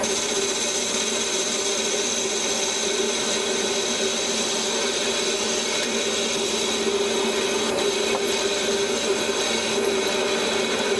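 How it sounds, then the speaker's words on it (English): A mini lathe parts off a roughly 3mm-thick metal part, a steady, loud grinding scrape with a continuous motor hum underneath that holds evenly for about eleven seconds. "Let's part that off and then we'll face it afterwards."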